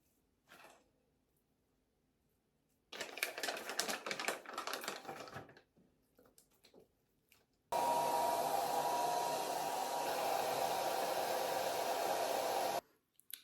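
A hair dryer blows while drying hair, a loud steady whoosh running about five seconds, preceded by an earlier burst of rustling and tapping handling sounds in a quiet room.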